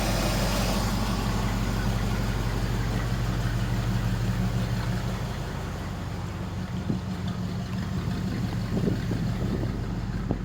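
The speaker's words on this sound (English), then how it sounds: "hopefully you guys can hear this over the motor, but it's just purring like a kitten" A truck's V8 engine with true dual exhaust idles steadily with a deep, even rumble, loud and close, holding a constant low throb for the whole stretch.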